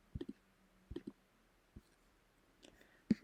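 Several soft, sharp computer mouse clicks, some in quick pairs, spaced irregularly against a quiet background hiss.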